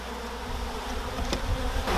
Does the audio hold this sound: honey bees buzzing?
yes